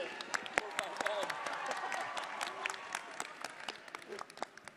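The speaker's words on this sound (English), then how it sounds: "Can we hear a round of applause for the supporters of the ambassador team?" Scattered audience clapping for the ambassador team's supporters at a closing-plenary quiz session, fairly faint, with a voice talking over the sparse claps throughout.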